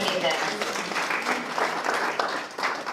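Audience in a school theater presentation applauding steadily, a dense wash of clapping that stays loud throughout.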